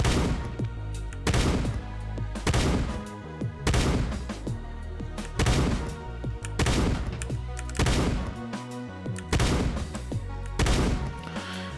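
Slow, evenly spaced gunshots from a weapon in the video game Shortventure 3, roughly a dozen punchy booming blasts with brief gaps between them over steady game sound.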